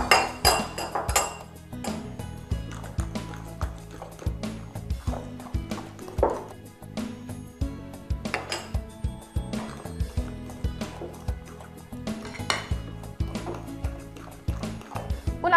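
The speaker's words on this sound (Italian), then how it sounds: "mixiamo e poi andiamo ad unire anche l'amido" Potato hamburger mixture being mixed in a bowl while starch is added, repeated rhythmic clinks and wet squelching taps of a utensil against the bowl, with music playing underneath.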